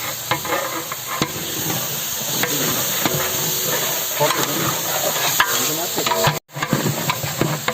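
Steady sizzling and frying with scraping, stirring sounds as goat meat is stirred in masala in a pan for biryani, continuous and close, with a brief dropout near the end.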